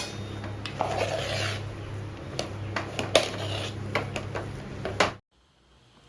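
Sabudana vada mixture with peanuts being stirred by hand in a home kitchen, a steady rubbing, rasping scrape with a few sharp knocks, continuous for about five seconds before stopping abruptly into near silence.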